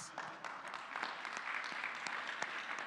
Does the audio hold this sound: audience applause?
yes